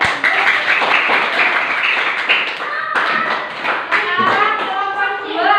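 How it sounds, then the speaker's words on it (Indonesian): Steady clapping from a class group, dense and continuous, with some voices mixed in under the applause. "Oke, tepuk tangan dulu."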